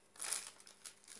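A plastic packet from a bottle of dark beer crinkles briefly and faintly, one short rustle followed by a couple of softer crackles in a quiet room.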